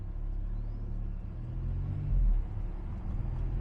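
A 2022 Maserati MC20 with carbon pack pulling away on its first drive, a steady low engine rumble with road noise that swells briefly midway, heard from inside the car, no talking.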